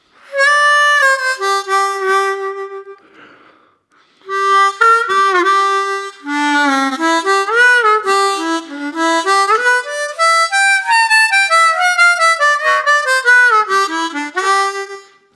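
A Suzuki Manji M-20 Olive harmonica plays a lively melody up close, with bright reedy chords, bends and quick runs across several phrases, broken by a short pause, and no voices.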